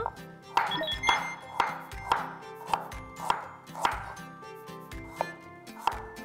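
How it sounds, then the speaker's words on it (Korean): Ginger sliced with a knife on a cutting board, with about a dozen sharp, evenly spaced chops that ring slightly, close and clear, with no speech over them. "그리고 생강도 편을 썰어 볼게요"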